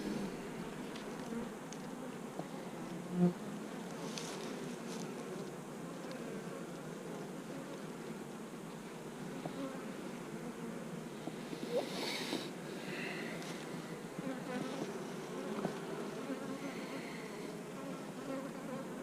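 Honeybee colony buzzing steadily up close as it prepares to swarm, a continuous dense hum with occasional louder passes of individual bees.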